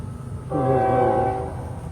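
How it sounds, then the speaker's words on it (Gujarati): A train horn blows in one sustained, harmonic-rich blast of about a second over steady rumbling from a train passing nearby, rising in loudness and then fading. "A train જઈ રહી છે જો"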